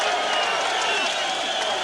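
Newcastle boxing crowd applauding and cheering Kostya Tszyu as he acknowledges them after his junior welterweight bout with Jan Piet Bergman, a dense, steady wash of clapping and crowd noise filling the arena throughout.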